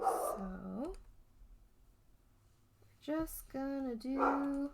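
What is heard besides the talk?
dog barking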